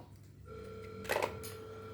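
A toy telephone rings with a short electronic trill over faint background hum, a brief bright burst of ringing in the middle and steady tones around it, no speech.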